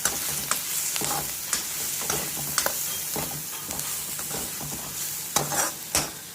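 Mung beans cook in a pan with garlic and coconut for a dosa side dish, giving a steady sizzle broken by repeated scraping strokes of a spoon as they are stirred.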